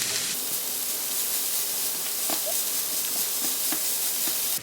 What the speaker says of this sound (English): now that the onions have softened and are a little brown, just gonna add some of the carrots.